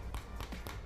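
Repeated tapping on the padded earcup of a HyperX wireless gaming headset, three soft distinct taps in quick succession, close and fairly faint, with no talking.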